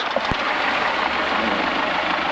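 A light aircraft engine runs steadily at about 1200 rpm on the ground with the parking brake set. It is a loud, continuous, even drone that holds without change throughout.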